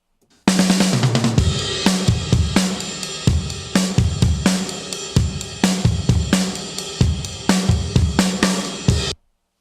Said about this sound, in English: here's how the whole drum mix sounds